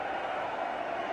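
A cricket crowd at a 1992 World Cup match between New Zealand and Australia roars after the Australian captain drops a catch, giving a steady, dense wash of distant crowd noise.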